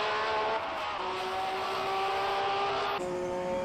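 A race car in the SRO GT racing sim at Sportsland Sugo drones loudly with a steady engine note climbing under throttle, with a brief shift around the three-second mark.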